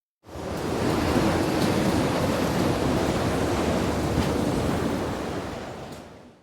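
Stormy ocean waves and wind make a loud, continuous roaring wash that swells in quickly and holds steady before easing slightly at the end, with no voices.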